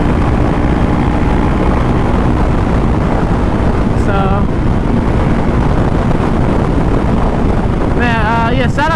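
A 2020 Honda CBR500R cruises in sixth gear, its steady engine drone buried under heavy, constant wind roar, with brief rising tones from other passing engines.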